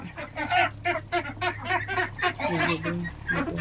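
Cross-bred Khaki Campbell and White Pekin ducks quack and honk close by in a rapid, uneven series of loud calls.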